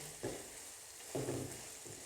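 Onion chutney sizzles softly in a pan while a spoon stirs it in a few distinct scraping strokes over a steady low frying hiss.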